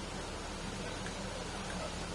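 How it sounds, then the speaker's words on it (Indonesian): Steady rain falls at SUGBK stadium in Jakarta ahead of an Indonesia World Cup 2026 Asian qualifier, a dense, even hiss that holds at constant loudness throughout with no clear voices. "Masih hujan terus lagi kawan."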